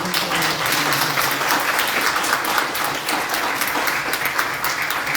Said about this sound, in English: can we just give a round of applause for our amazing